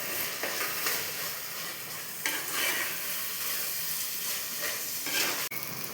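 Chili powder and coriander powder fry in a hot pan while being stirred, a steady loud sizzle with scraping stir strokes and occasional sharper clatters.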